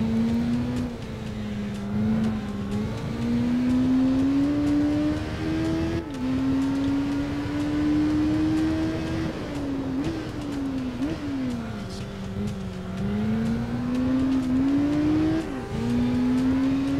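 Engine of a Suzuki GSX-R 600 sport bike in the racing game Tourist Trophy, a steady high-pitched whine rising and dropping through gear shifts, loud and continuous throughout with no talk.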